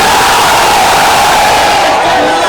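A large crowd at a political election rally roaring a Takbir slogan together, a loud dense mass of voices that fills the whole moment without a pause.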